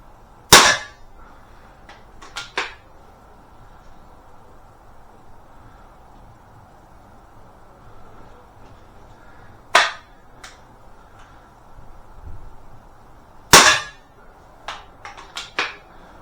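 Air pistols, a Webley Tempest and a Beeman P17, fire three sharp, loud shots spaced several seconds apart outdoors, each followed by faint clicks and handling noises over a quiet background.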